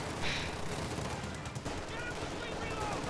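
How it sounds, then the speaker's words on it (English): Video game machine gun firing armor-piercing incendiary rounds at infantry behind a cover wall, heard as dense rapid bursts of gunfire in a steady noisy battle din under a commentator's voice. "Armor-piercing incendiary rounds deployed by this machine gun on infantry behind this green cover wall"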